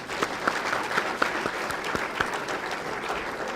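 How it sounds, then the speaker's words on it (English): A seated audience at the 2017 Tustin State of the City event claps in sustained applause, a dense patter of many hands with a few louder claps standing out. "Now, we can all applaud that."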